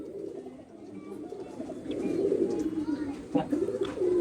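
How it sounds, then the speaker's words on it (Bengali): Madrasi pigeons coo in a loft, a low repeated throaty murmur from several birds close by, growing fuller midway, while a person talks over them. "এইগুলো সবই যে পায়রা দেখানো হচ্ছে সবই ইকবাল স্যারের পায়রা"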